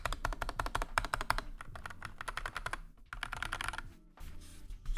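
Typing on a SteelSeries Apex 9 TKL keyboard: rapid bursts of crisp key clicks in quick rhythm, brief pauses between flurries, close and clear with no talking.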